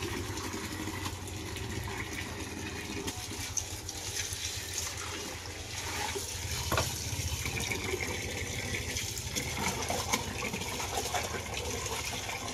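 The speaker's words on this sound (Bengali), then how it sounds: "এই যে এবারে শাকটা আমি ধুচ্ছি।" Leafy field greens being washed in water, a continuous splashing and trickling as the leaves are swished and rinsed, close by and steady throughout.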